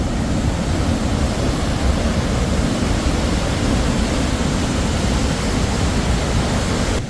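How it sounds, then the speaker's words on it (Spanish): Waterfall at Johnston Canyon in Banff, seen from above: a steady, loud broadband roar of falling water that holds constant throughout without any break, with no voices heard over it. "llegamos ahora a la cascada, pero vista desde arriba"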